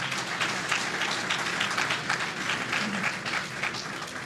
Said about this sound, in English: Give yourselves a round of applause for this big crowd.